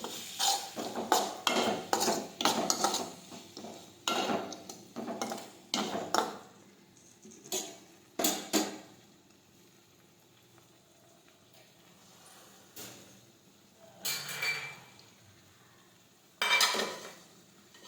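A spoon stirs chopped green garlic into a pot of urad dal, making uneven bursts of scraping and clinking against the metal, broken by quiet pauses and a few later strokes.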